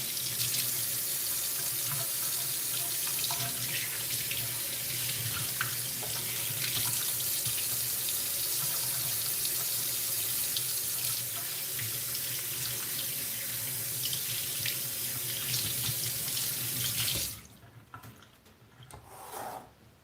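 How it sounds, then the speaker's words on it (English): Tap water runs steadily into a sink as hands are washed beneath it, a close, continuous splashing rush that cuts off abruptly near the end. "Let me wash my hands."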